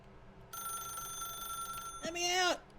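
A telephone rings in the video game The Stanley Parable with a steady, bright electronic tone that holds for a couple of seconds, and a voice briefly breaks in near the end.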